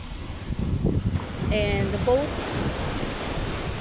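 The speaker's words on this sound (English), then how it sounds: "So as you can see, there are big waves" Large surf rolling onto a shore ahead of a typhoon, with steady broadband wash and wind buffeting the microphone throughout; a person talks briefly over the noise.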